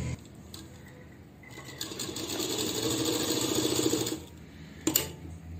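A sewing machine stitches tucks along the bottom of a pant leg, whirring for a few seconds before stopping. A short clack follows near the end.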